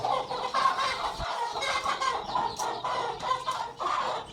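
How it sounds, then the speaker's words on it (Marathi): Egg-laying hens clucking on a poultry farm, a continuous overlapping chorus of close clucks and calls from many birds. "अंडे जास्त देणारी कोंबडी"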